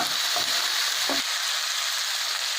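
Chopped capsicum hits a hot pan with ginger garlic paste for pav bhaji, a bright steady frying hiss with a brief stir at the start and no voices.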